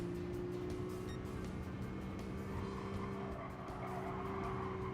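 In a racing video game, race cars including Nissan GT-Rs roar past with engines droning and tires squealing, a continuous, dense mix of engine noise and skidding at a steady level, with no talk.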